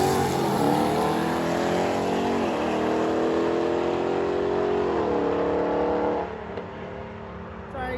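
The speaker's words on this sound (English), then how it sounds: "But we're getting to some more racing with the TRX making another pass." A Ram TRX truck revs and accelerates hard down a drag strip, a loud sustained engine roar with rising pitch sweeps, easing off near the end.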